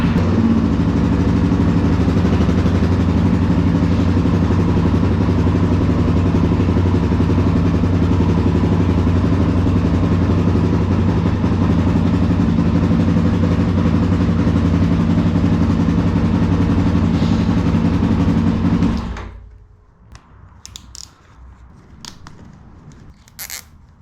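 A Suzuki DRZ400S motorcycle engine runs loud and steady at idle for nearly twenty seconds, then cuts off abruptly, leaving a few faint clicks and knocks.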